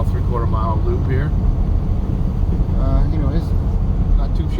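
A 1997 Ford pickup truck drives on a short loop, its steady low engine and road rumble running throughout beneath intermittent talking from people inside the cab.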